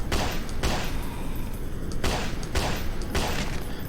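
Gunshots fired at zombies in a video game, a loud, close series of repeated blasts about every half second over a dense, noisy background.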